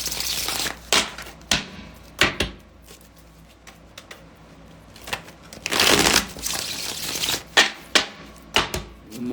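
Tarot cards being shuffled by hand, close and crisp, with bursts of riffling and flicking interrupted by sharp slaps and taps, alone without talk.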